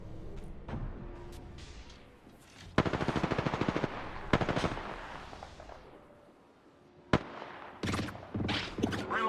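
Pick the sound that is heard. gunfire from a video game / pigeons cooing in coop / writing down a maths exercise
gunfire from a video game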